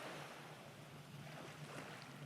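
Ocean waves wash steadily at the seaside, a soft continuous surf hiss with faint wind, heard quietly and alone without voices.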